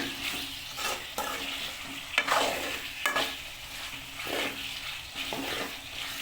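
Chicken sautéed and stirred in a pan, a continuous sizzle broken by repeated scraping strokes of a spatula, fairly close and steady, with no talk.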